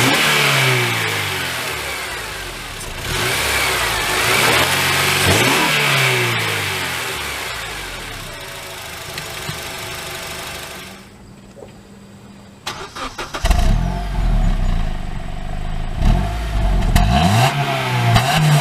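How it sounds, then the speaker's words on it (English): A 2003 Honda Accord EX-L with 140,000 miles revs loudly, the engine rising and falling in repeated sweeps, then drops to a lull before catching again and settling into a steady idle. "So let's go ahead and start it up."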